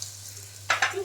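Asafoetida dropped into hot oil for a tempering for a bitter fenugreek curry, starting quiet, then a sudden close, loud crackling sizzle that bursts and pulses for the last half second.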